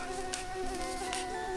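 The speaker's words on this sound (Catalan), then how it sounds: "Vivia un mosquit." A mosquito's thin, steady buzzing whine in a children's story, continuous and fairly close throughout.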